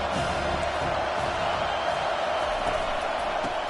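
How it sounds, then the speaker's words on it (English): A football stadium crowd roars in a steady, distant wash of cheering and noise, with no single voice standing out. "This crowd trying to make life miserable for this offense."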